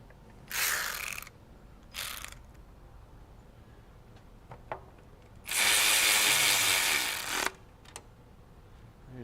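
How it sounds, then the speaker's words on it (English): Two screws on a car driven in by hand with a ratchet, heard as short bursts of ratcheting clicks and then a longer loud run of ratcheting, close up with quiet gaps between, no talking. "I'm just putting the 2 screws in, trying to get them started."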